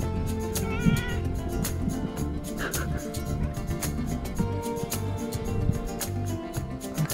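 A cat meows a few times at a plum orchard farm in Gapyeong, faint and mid-distance against a busy background of ambient noise and rustling.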